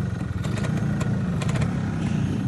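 Kawasaki Brutus motorcycle with an aftermarket exhaust idling steadily, a low, even rumble that stays close and continuous throughout with no revving.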